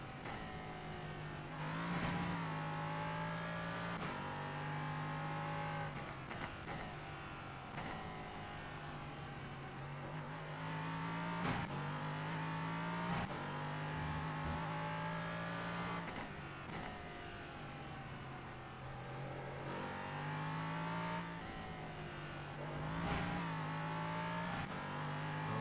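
Race car engine in a sim racing game on the final lap, a loud sustained roar rising and falling through gear changes as the car accelerates, brakes and revs through corners, alone without talk.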